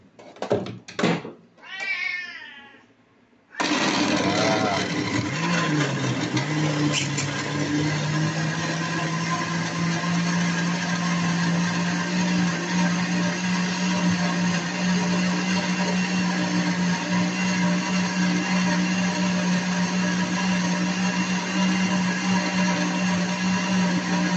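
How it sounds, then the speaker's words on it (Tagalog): A short burst of cat meowing gives way to a loud blender that switches on and whirs steadily at a constant pitch, continuing without pause. "Nag-blender na natin siya"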